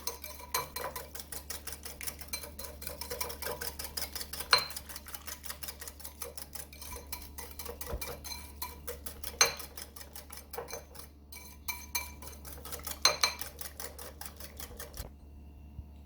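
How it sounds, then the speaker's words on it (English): A whisk beats a rum glaze made with white overproof rum in a bowl, giving a steady, fast rattling tick of metal against the bowl. It runs close and continuous for about fifteen seconds with a few sharper knocks, then stops. "Ray and Neville white overproof rum, and I'm just going to whisk this away"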